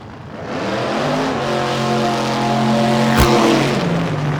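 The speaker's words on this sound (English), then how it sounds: "William Conley from Sperry gets his car going" A car at a drag racing event accelerates hard, a loud, steady engine roar with rising harmonic tones and a sharp crack near the end, heard without talk.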